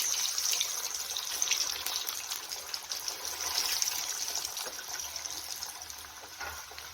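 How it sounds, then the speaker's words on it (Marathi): Chicken leg pieces fry in hot oil for a KFC-style dish, giving a continuous loud hiss and crackle close by, easing slightly toward the end. "तेल पण असं छान तापलेलं आहे तर हा लेग पीस आपण तेलात सोडून घेऊया"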